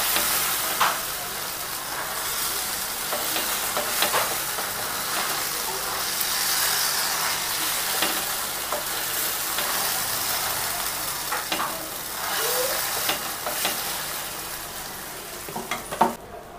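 Pitha frying in a generous amount of oil, a steady dense sizzle and crackle that holds evenly throughout with occasional brief pops, close and alone without talk.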